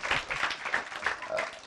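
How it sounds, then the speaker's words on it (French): A small audience at a children's event applauds briefly, a faint, quick patter of clapping with a little voice mixed in. "Les enfants, ça s'applaudit."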